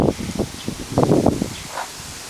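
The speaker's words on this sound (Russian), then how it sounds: "Сильный ветер." Strong wind rustles through bare oak and birch trees as the last leaves fall in cold, rainy weather, a close, uneven rustling in irregular bursts with a louder surge in the middle.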